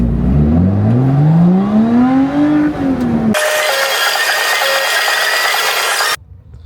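Porsche GT4 sports car engine revving hard while driving, climbing in pitch through a long pull, then a sharp shift into a higher steady drone that cuts off abruptly.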